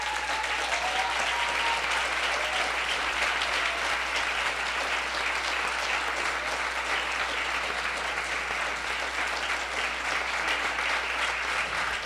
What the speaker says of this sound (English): everybody can give you a round of applause